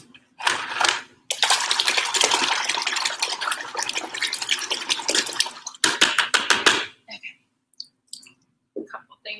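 A paint brush is swished and rinsed in a container of water before furniture painting, making bursts of wet sloshing and splashing with short pauses and a few faint clicks near the end, with no voices.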